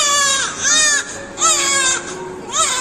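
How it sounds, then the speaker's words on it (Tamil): A newborn baby cries loudly and up close in repeated wailing bursts, about four rising and falling cries with short gaps between them. "குழந்தை அழுக சத்தம் கேக்குது."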